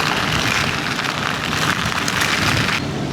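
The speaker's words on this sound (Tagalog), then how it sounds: "pag nagtuloy-tuloy yung ulan na yan, magbabaha dito" Heavy rain pours steadily during a motorcycle ride, a loud, dense, continuous hiss of drops and spray with no pauses and no talking.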